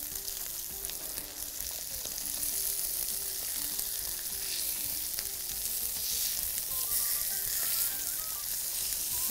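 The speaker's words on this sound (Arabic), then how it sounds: "وهنحط قطعة زبدة وهنستناها كده لحد ما تسيح" A piece of butter melts and sizzles in a pan, making a loud, continuous crackling hiss with no talking over it.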